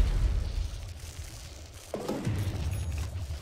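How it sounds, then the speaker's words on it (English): Alchemist's Unstable Concoction self-explosion in Dota 2 lands as a muffled boom with a short burst partway through, over a dense, rumbling game soundscape. "You can use Unstable Concoction Self-Explosion to farm neutral stacks"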